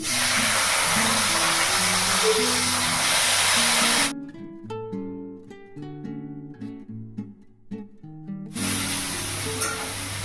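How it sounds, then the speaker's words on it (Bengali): Steady sizzling of flat beans frying in a hot pan alongside music; the sizzle cuts out for a few seconds mid-way, leaving the music alone, then returns. "আজকে এই যে শিম ভাজা করবো একটুখানি"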